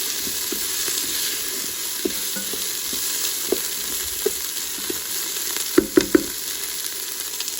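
Chicken fries in a Ninja Foodi for black pepper chicken, a continuous close sizzle broken by the soft taps and scrapes of a spoon stirring, with a few sharper knocks near the end; no talking.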